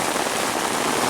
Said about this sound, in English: here it is, we're getting rain in the summer